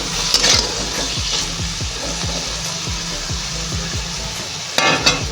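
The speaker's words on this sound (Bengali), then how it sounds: "দিয়ে একেবারে বেগুনগুলো দু পিঠ ভালো করে ভেজে তুলে নেব" Eggplant slices frying in hot oil with salt and turmeric, a steady close sizzle with light scraping of a spatula and a few clinks, no talking.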